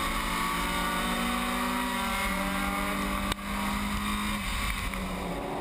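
Race cars on a wet track, engine drone rising and falling at a distance under a broad hiss of spray, with one sharp click partway through.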